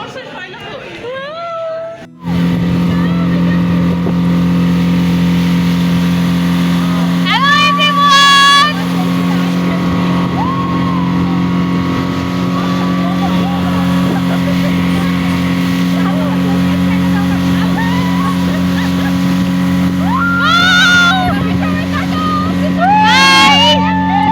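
A speedboat ride, with a steady engine drone running loud and unbroken under intermittent voices and crowd chatter from people on board.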